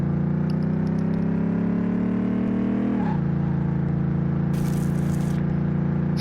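A car engine in Car Mechanic Simulator on PS4 drones steadily and loudly, its pitch slowly climbing, dipping abruptly partway through, then holding at a lower, even tone with a faint rattle.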